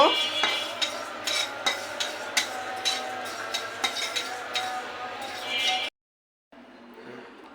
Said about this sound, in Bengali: এই যে পাঁচফোড়নটা আমি এখন ভেজে নিচ্ছি।